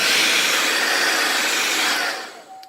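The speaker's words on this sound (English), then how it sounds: "you hit it with your blow dryer" A hair dryer blows with a steady, loud rushing hiss, then clicks off and the whir winds down.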